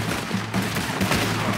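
Rifle gunfire in the Red Dead Redemption 2 video game, with a quick string of close shots cracking one after another over the game's background noise.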